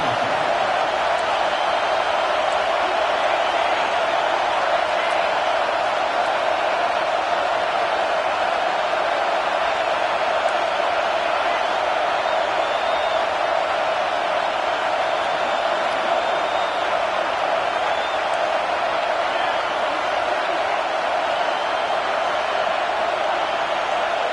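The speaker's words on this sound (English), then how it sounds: "The mighty Utah student section alive and bringing the noise on third down." The Utah student section roaring at a college football game against Ohio State on a third-down play, a steady, loud wall of crowd noise that never lets up, distant and dense.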